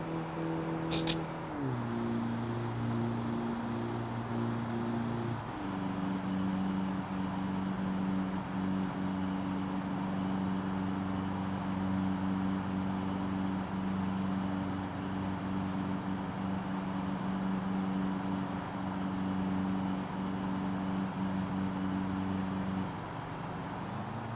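Sports car engine in the driving game BeamNG.drive, a steady droning hum that climbs in pitch through gear shifts, continuous and even in level for the whole stretch with no talking.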